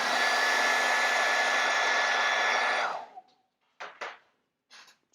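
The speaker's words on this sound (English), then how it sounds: "hit this with the hairdryer again." A hair dryer roars steadily and close while drying a freshly painted miniature, then cuts off abruptly, followed by a few brief faint rustles and handling noises.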